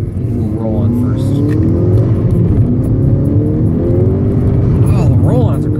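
Engine of a Mk6 VW GTI with an APR K04 turbo tune pulls hard in a rolling acceleration, a steady loud drone rising in pitch and shifting up, with a voice talking over it.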